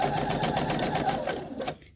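Sewing machine stitching flannel for a mini pillow for an 18-inch doll, a fast rhythmic mechanical whir of needle strokes for under two seconds before it stops, close and clear.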